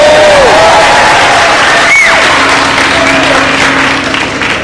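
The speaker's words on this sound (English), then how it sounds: "Give a cheer, guys." A crowd at a long sword prize-playing bout cheers and claps loudly and steadily for several seconds, with voices rising over the noise.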